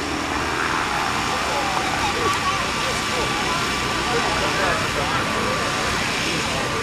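Ethanol-burning aerobatic airplanes fly a diamond formation at the 2009 Sioux Falls airshow, producing a continuous broad engine roar that holds steady throughout, with a crowd and announcer-like background.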